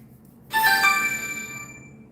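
A phone ringtone sounds once as a bright electronic chime, loud and alone, then rings out and fades over a second or so.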